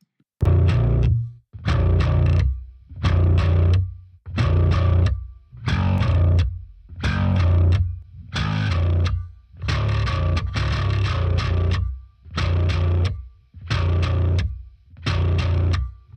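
Distorted, clanky metal bass guitar run through a Marshall Lemmy Murder One amp simulation, playing loud repeated chugging phrases in a steady rhythm with short gaps between them, alone.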